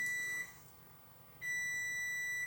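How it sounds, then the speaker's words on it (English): A high electronic tone beeps steadily, cuts out for about a second, then resumes at the same pitch. "It's beeping."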